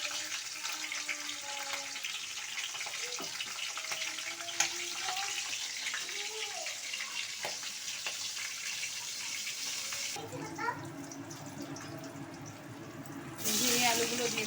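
Chilies frying in hot oil seasoned with nigella seeds give a continuous hissing sizzle with faint crackles, moderately quiet, before the sound drops away near the end.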